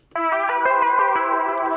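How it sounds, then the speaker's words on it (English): Omnisphere's Nippon Planetary Joy preset plays a pluck melody with echo and chorus effects. Regular, closely spaced notes form a bright, shimmering line that trails and blends, loud and close, with no voices. "I used the Nippon Planetary Joy preset on Omnisphere."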